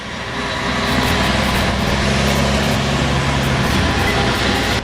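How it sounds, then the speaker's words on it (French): A heavy rumbling truck engine roars steadily close by, a loud continuous low drone with some rattling on top. "c'est le bruit du camion."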